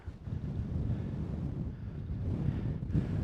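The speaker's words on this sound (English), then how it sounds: "Oh, that wind is so lovely." Steady wind buffets the microphone on an open Lake District fell near Loughrigg, a constant low roar with gusts that swell near the end, heard alone with no talk.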